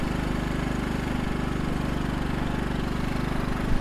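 A motorcycle engine running steadily, picked up close by a small camera mounted on the bike, with a constant low throbbing drone and no break or change in pace.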